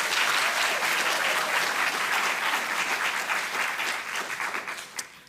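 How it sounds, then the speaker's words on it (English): A university hall audience hosting a visiting ambassador gives a full round of applause, dense and sustained clapping that holds steady before thinning and fading out near the end. "I think UKZN deserves a round of applause for that."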